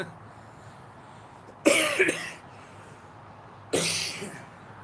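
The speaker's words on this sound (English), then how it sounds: "try not to cough at you" A man coughs twice, close and harsh, each burst rough and lasting under a second, separated by a couple of seconds of quiet room background.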